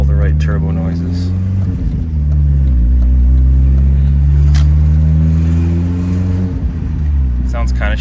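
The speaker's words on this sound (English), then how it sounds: "So it just makes all the right turbo noises." A 1.8T turbocharged engine with a broken downpipe runs loud and close, its deep harmonic drone rising and falling through several throttle blips, with a brief dip near the end.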